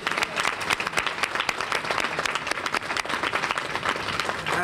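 An audience at an education conference applauds a panel, dense sustained clapping from many hands throughout, fairly loud and close with no talking.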